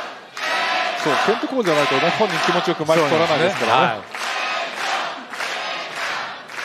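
A wrestling arena crowd at an All Japan Pro Wrestling New Year show sends up a loud, sustained roar of jeering and booing that carries steadily under two commentators talking over it.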